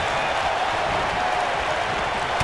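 A video game arena crowd cheers during a WWE 2K19 handicap match, a dense, even roar that holds at one level the whole time, with a hint of applause inside it and no pause.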